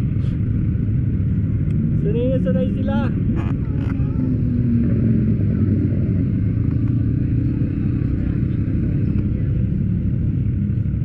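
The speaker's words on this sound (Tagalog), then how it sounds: "Malakas yung makina niya oh." A loud vehicle engine runs steadily and close, a constant heavy rumble throughout, while people talk over it.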